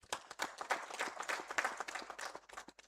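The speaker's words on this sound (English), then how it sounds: "Please give them a round of applause." An audience claps for business partners at a gathering, a brief round of scattered, fairly faint hand claps with uneven rhythm, no talking over it.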